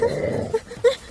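A dog standing nearby makes a brief low vocal sound followed by two short yips, close and fairly loud.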